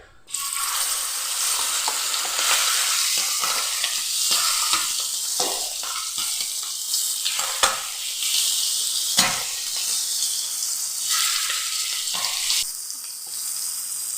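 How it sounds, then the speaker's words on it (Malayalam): Stuffed squid, Malabar style with spiced masala filling, frying in hot oil in a pan: a loud, steady, close sizzle with crackling pops and brief scraping knocks throughout. "ഇനി നമുക്കിതിലേക്ക് ഓരോന്നായി വെച്ച് ഒന്ന് ഫ്രൈ ചെയ്ത് എടുക്കാം."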